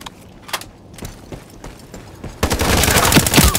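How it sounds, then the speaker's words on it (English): A weapon reload in the shooter Ironsight gives a few sharp mechanical clicks and clacks, then a burst of loud gunfire takes over the second half. "Reloading"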